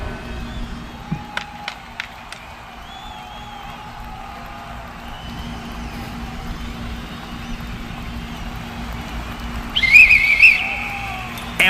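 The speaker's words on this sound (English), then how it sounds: "And with the referee's whistle, we are ready to get things started." A referee's sharp, shrill whistle blast rings out over a low crowd murmur at a league basketball game start, with a few earlier faint clicks in the background.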